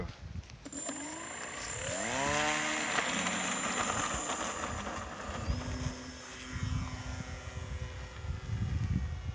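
A BlitzRC Sorceress RC sports plane on its first flight gives a whining motor drone that climbs in pitch, then holds steady and fairly distant, mixed with gusty wind noise on the microphone.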